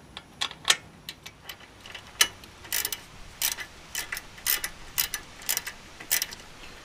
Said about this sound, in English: So now I'm just gonna put the bolt back in the bottom.